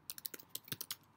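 Quick, uneven keystrokes on a computer keyboard while entering commands for a Docker Swarm demo, about ten close, crisp clicks in a short burst with no talking.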